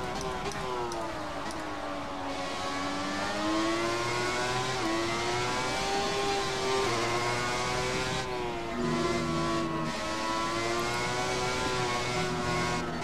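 The engine of a 1995 Ferrari 412 T2 Formula 1 car in the F1 2017 video game screams at high revs, its sustained note rising and dipping through gear shifts and throttle changes for the whole stretch.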